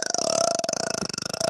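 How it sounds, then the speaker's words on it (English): A person lets out a long, rumbling burp close up, its pulses running steadily for more than a second. "Can you burp your name?"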